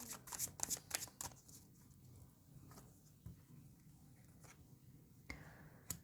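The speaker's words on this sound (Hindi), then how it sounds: "final shuffle" A deck of tarot cards is shuffled close by in a quiet room, with quick riffling bursts at the start, then softer scattered card flicks and taps.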